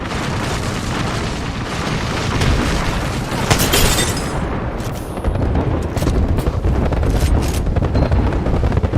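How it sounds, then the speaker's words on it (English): An airstrike in a video game brings heavy, continuous rumbling blasts and booms that overlap loudly throughout, with a sharp burst near the middle. "Airstrike."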